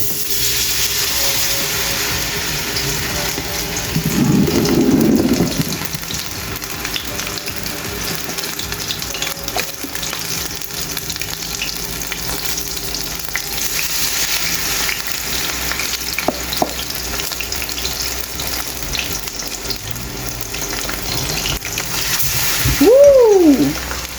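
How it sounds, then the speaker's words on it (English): A fish fillet fries in hot oil on a stove, giving a loud, continuous bubbling sizzle for the whole stretch, with a brief surge early on and a clink of a utensil toward the end. "the oil is hot. So now I'm gonna drop the fish in."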